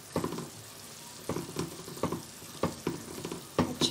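Spiced mixed vegetables get stirred in a pan over low heat: a spoon scrapes and clacks in irregular strokes over a faint sizzle, close up with no talking.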